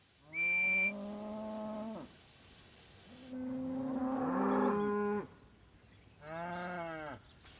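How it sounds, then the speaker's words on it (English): Cows mooing three times, each a long drawn-out low call, close by and loud, with brief quiet gaps between. "Please move out of the way, you silly cows."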